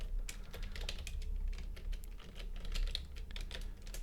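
Rapid, steady typing on a computer keyboard during OpenGL programming, the clicks close and continuous over a low hum, with no one talking.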